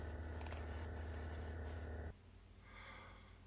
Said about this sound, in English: And now we can move to the paint, starting with the interior NATO black.